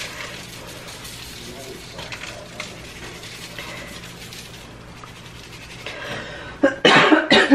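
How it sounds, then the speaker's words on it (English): A few sharp coughs burst out near the end after a stretch of quiet background noise. "I just can't get rid of that cough."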